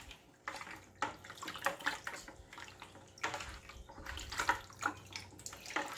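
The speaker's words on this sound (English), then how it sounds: "Going to give that a good stir." Stirring a dissolving mixture in a bucket of water, heard as close, irregular sloshing and splashing strokes in several bursts of swirling water, with no talking.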